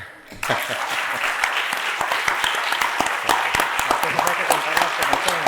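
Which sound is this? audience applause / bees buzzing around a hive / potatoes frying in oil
audience applause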